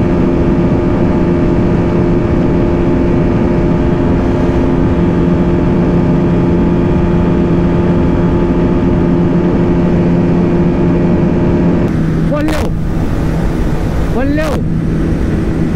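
A 2023 Bajaj Pulsar RS200 BS7 and Pulsar NS200 BS7 drag racing, a steady loud engine drone under heavy wind buffeting throughout, with brief higher whooshes of the bikes near the end.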